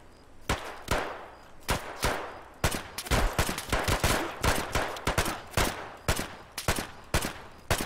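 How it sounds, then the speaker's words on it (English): Gunfire in Escape from Tarkov: loud, close bursts of automatic fire mixed with single cracking shots, coming in irregular clusters throughout with brief gaps, and no talking over it. "Guys, there's so much shooting."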